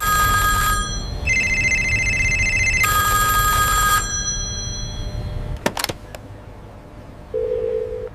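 A telephone rings loudly in repeated bursts with short pauses, then stops abruptly as someone places a call to an IPS officer; a brief clatter follows, then a faint tone.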